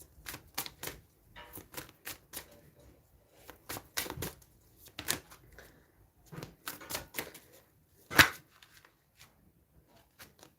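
Tarot cards shuffled by hand in sharp, irregular bursts of riffling and slapping, quiet and close with brief pauses between clusters and one louder snap near the end.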